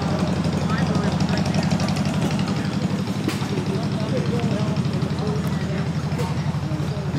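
An old stationary engine runs steadily at an engine and tractor show, its even, chugging idle continuing close by throughout while voices murmur over it.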